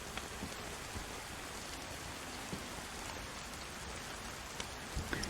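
Rain in the video game DayZ falls steadily as a constant soft hiss of drops, with no voices and only a few faint taps standing out from the even wash.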